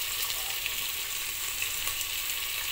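Onion and tomato frying for khichuri, a steady, even sizzle of hot oil with faint crackles, close and unbroken.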